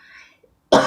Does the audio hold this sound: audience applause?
no